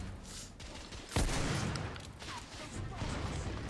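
A Dragoon revolver in The Order: 1886 fires one loud, heavy shot with a sharp crack, set against a steady bed of game ambience and distant battle noise.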